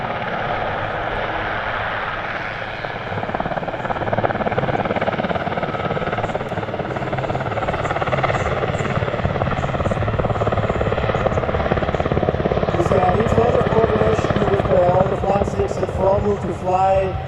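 A Super Puma helicopter performs a display at an airshow in Leszno, flying and turning backwards. Its loud, continuous rotor and turbine roar holds steady throughout while a commentator talks over it.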